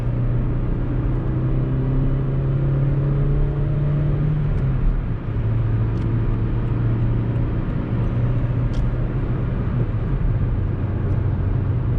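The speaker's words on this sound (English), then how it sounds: "It's an inline 4-cylinder engine," Steady in-cabin engine drone from a 2008 Suzuki Swift 1.3 with an inline four-cylinder, cruising on a highway at about 80 km/h, a constant low hum with road rumble and a slight shift in pitch midway.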